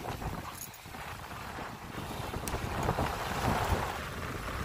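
A fast radio-controlled boat runs on ocean waves, its small motor whining faintly beneath heavy wind buffeting and the wash of surf, all steady and noisy throughout.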